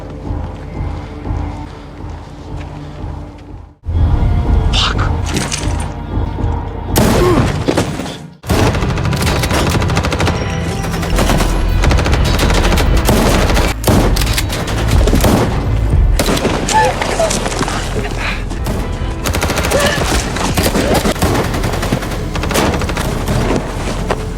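Gunfire in a film shootout, with dense, loud, continuous bursts of shots and booms that run almost throughout, broken by two brief silent gaps early on.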